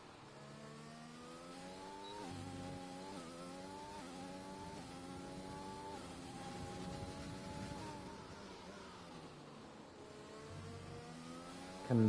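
F1 2020 video game race car engine, Hungary circuit, a continuous high revving whine with rising and falling pitch as the car passes, loud and steady throughout with no talk over it.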